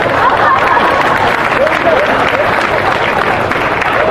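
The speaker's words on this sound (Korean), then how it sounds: "박수로 함께해 주시기 바랍니다." A crowd at a candlelight rally in Busan keeps up loud, continuous clapping through a short donation ceremony, with some voices and murmuring mixed in.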